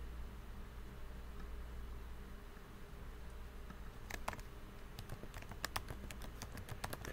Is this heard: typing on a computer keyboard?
yes